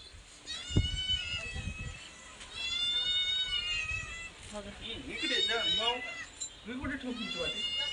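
A cat meows repeatedly, with several drawn-out calls spread across the clip, close by and fairly quiet, as people talk in Marathi in between.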